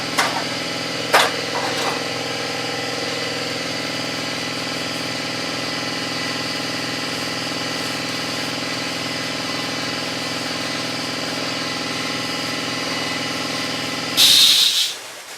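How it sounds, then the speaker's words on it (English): A whizzer wheel fitted with a Scotch-Brite pad spins against an engine's valve cover gasket surface, giving a loud, steady motor drone that runs without a break for most of the span before a brief rough burst near the end. "there were some spots that were hard to reach with the whizzer wheel, so I'm just going to get it with a little bit of Scotch-Brite"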